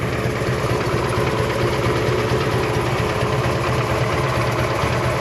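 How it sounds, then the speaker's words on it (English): A 1968 Chevrolet Camaro convertible idles steadily up close, its engine giving a loud, even, throbbing rumble with no voices over it. "Engine sounds real nice and good."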